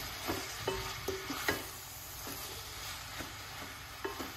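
Cabbage fries in a hot pan with a soft continuous sizzle while a utensil stirs and scrapes it in repeated knocks every half second or so, close and fairly quiet.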